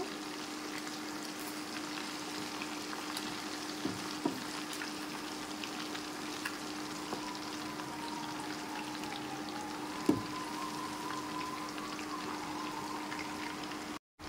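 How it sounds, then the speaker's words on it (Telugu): Fish pieces frying on their second side in a pan, a steady low sizzle and hiss running evenly throughout with a few faint clicks, no talking. "ఇప్పుడు అన్నీ అలా తిప్పిన తర్వాత రెండో వైపు కూడా మనం ఈ కలర్ వచ్చేటట్టు ఫ్రై చేసుకోవాలి"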